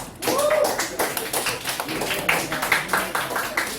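Steady clapping from a classroom of students fills the room, dense patter continuing throughout with a teacher's voice briefly rising over it near the start.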